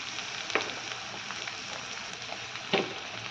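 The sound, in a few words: capsicum sizzling and stirred in pan for chili chicken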